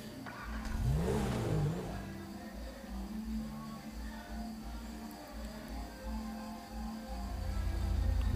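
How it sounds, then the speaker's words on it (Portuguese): A car engine revs up in Grand Theft Auto V, a loud surge at the start settling into a steady mid-pitched drone, with no talking. "Então vamos aqui com o carro dele aqui."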